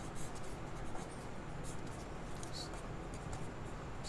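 Pen or chalk scratching steadily while a maths question is copied out in a logarithm lecture, a soft continuous scraping with short strokes over a low room hum.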